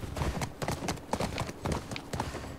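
Horse hooves clip-clop while riding in The Last of Us video game, a rapid, uneven patter of hoofbeats with a soft background ambience.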